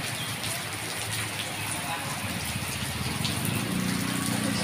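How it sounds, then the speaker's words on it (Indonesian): Heavy rain pouring on a quiet street in the early evening, a dense continuous hiss of drops and splashing water that stays loud and even throughout, with no talking. "sudah hujan terus, hujan deras, jadi ya jalan-jalanan sepi ya"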